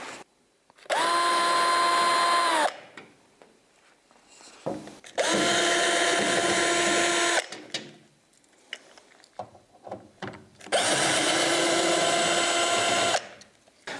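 A screw gun backs Phillips screws out of a Santa Fe Classic panel in three loud whirring bursts of a few seconds each, separated by quieter clicks and handling noises close by.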